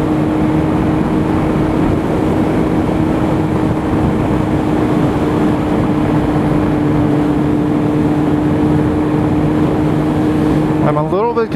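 2008 Kawasaki Z1000 fitted with a Danmoto Carbon GP exhaust, a loud close steady engine drone holding an even pitch, then a quick rising rev in the final second, with no talking.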